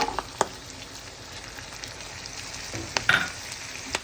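Soaked moong dal, curry leaves and onions fry in a hot pan in a South Indian thotakura pesarapappu dish, a steady sizzle broken by a few sharp stirring clatters, close and alone.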